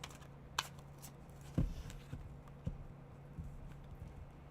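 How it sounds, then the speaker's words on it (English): Tarot cards being shuffled back into a deck during a live reading, heard as a few soft, scattered flicks and taps of card stock close by, with no talking. "Let me shuffle these back in here."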